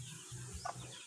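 Chickens cluck softly in a coop among chicks, a brief close-up murmur of low hen clucks with a slightly higher peep near the end.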